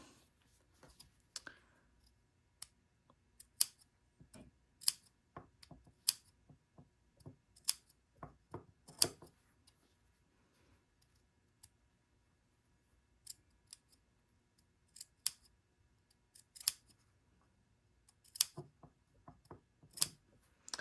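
Scissors snip notches into the seam allowance at the corner of a dress bodice, sounding as sharp, close clicks in irregular bursts of quick cuts with quiet pauses between them.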